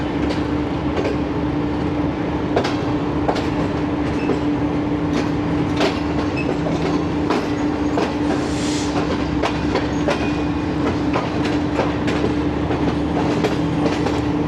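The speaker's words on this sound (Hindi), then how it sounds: "अब रवाना हुई है ट्रेन" The Shalimar Express pulls out of Rahim Yar Khan station with a steady rumble of rolling railcars and a rhythmic clickety-clack of wheels over rail joints, heard close up from on board and without voices.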